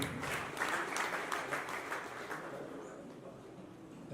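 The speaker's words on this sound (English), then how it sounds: "Another round of applause." Audience clapping steadily at a reality show prize ceremony, a dense, sustained wash of applause that swells early and then gradually thins and fades, with faint voices beneath.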